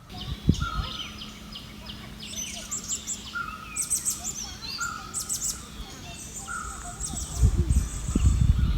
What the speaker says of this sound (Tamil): இந்த இடத்துல ஏண்ட காதுக்கு கேட்கக்கூடிய அந்த இனிமையான பறவைகளோட சத்தம் உங்களுக்கும் கேட்குன்னு